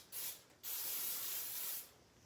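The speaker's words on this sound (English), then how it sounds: "So what I like to do is spray it, give it a little sheen." An oil sheen and conditioning spray with moisture replenish blend and jojoba oil is misted onto hair twists in two hissing bursts, a short one followed by a longer one, close and clear.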